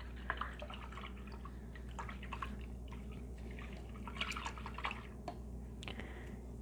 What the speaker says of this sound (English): And now I'll rinse this off.